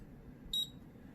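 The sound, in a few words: beep from Colop e-mark create handheld printer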